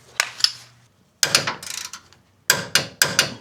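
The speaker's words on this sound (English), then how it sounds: "we're torquing these down at 70 foot-pounds each" A torque wrench tightening end link and track bar bolts to 70 foot-pounds on a Lexus GX460 makes close, sharp ratcheting clicks in short bursts, with brief pauses between pulls.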